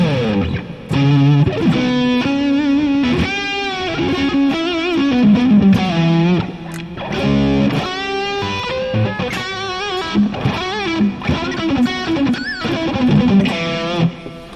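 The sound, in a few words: guitar through overdrive, distortion, chorus, delay and fuzz effects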